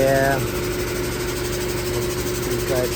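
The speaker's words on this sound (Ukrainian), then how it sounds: "компресор." An air compressor runs with a steady, loud droning hum from start to end, heard close and without any talking over it.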